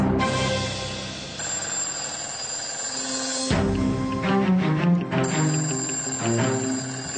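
A telephone rings steadily in the foreground, its electronic ringing tone repeating continuously throughout.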